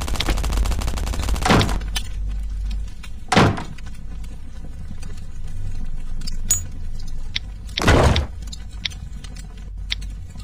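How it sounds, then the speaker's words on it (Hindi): SMG bursts in the survival shooter Last Day Rules Survival crack out as three sharp, loud volleys spread across the clip, with quieter clicks and ambient game noise between them. "आवाज़ तो आ रही है एसएमजी का"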